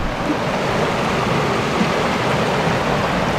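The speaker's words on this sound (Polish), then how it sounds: "Przejście przez strumień o tej porze wcale nie jest proste." A forest stream flows in a steady, loud rush of water, heard up close, continuous and with no voices.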